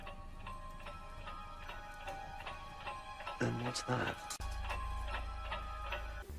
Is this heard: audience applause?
no